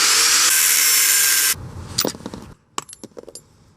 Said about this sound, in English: Time for the angle grinder.